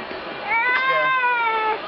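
A baby whines in a high, wavering cry that rises and holds for over a second, close and fairly loud, with faint background voices before it.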